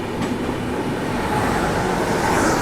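Seen from on board, the Garib Rath Express rolls past the Muzaffarpur–Anand Vihar special with a loud, steady rumble of rail and wheel noise and no talking.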